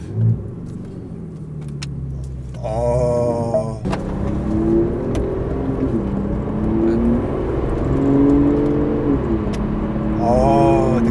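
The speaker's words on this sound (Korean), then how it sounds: "배기음 들으면서 한번 출발해 보시죠." An Aston Martin DB11 pulling away, its exhaust a deep rumble that rises in revving pitch sweeps through gears, close and loud, with a brief voice at the start.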